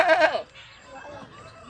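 A goat at a Pakistani livestock market gives one short, loud bleat, followed by faint background market noise.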